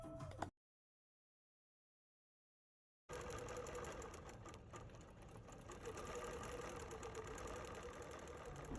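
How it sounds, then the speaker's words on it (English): A Qmatic computerized quilting machine stitching a side piece of a quilt, a steady mechanical hum and rapid needle chatter that starts abruptly after a brief silence and runs on continuously. "this is just the process of the Qmatic stitching that side piece for us"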